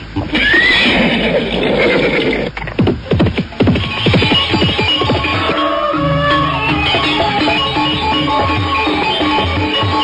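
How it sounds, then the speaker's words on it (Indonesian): A horse whinnies loudly and close by near the start, then a rapid run of clattering hoofbeats follows as it gallops across the ground, with busy movement noise continuing after. "Kudanya berlari bagaikan terbang di atas permukaan tanah menuju ke arah desa Pakahuli."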